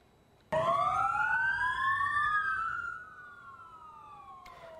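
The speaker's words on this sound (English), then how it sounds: "the blinkers and sirens of 2 light fire attack vehicles at the site were turned on for 15 seconds" Sirens of two Singapore Civil Defence Force light fire attack vehicles start suddenly at a firefighter's funeral, wailing loudly, rising in pitch, holding, then gliding down and fading a little, with a brief electronic beep near the end.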